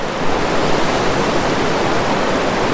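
A small river near Nanaimo, the kind holding rainbow and brown trout, rushes in a steady, dense wash of flowing water, close and continuous with no voices.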